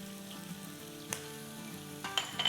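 Vegetables sautéing in a hot pan for anda chicken chili give a steady, soft sizzle and crackle, with a few sharper clinks of stirring near the end, close and fairly quiet.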